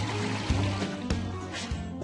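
A household toilet cistern empties in a flush, a steady rushing pour of water with a low churning rumble and a few brief knocks, heard up close.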